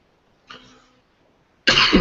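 A single harsh cough bursts out loudly near the end, following a softer throaty sound a moment earlier.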